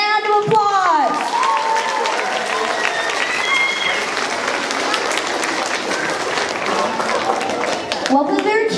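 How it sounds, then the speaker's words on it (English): A school crowd at a 6th grade promotion awards ceremony applauds the 6th grade teachers, with steady, dense clapping and some cheers filling most of the clip after a brief voice at the start. "please give all the 6th grade teachers a round of applause"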